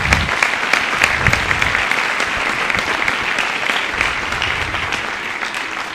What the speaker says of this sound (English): So how about another round of applause for them?